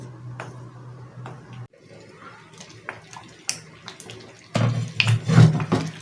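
Warm water is poured into a lentil stew, misir wot, cooking in a pot. The splashing and gurgling grows louder and fuller near the end, with small clinks scattered throughout.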